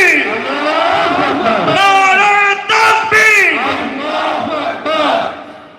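At a Jamaat-e-Islami gathering in Dhaka-13, a large crowd roars back a chanted slogan in response to the Nara-e-Takbir call: loud, repeated collective shouts in rising and falling waves.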